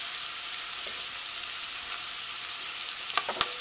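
Curry leaves sizzle in a hot pan with tomato, a faint, even frying hiss with a couple of small pops near the end.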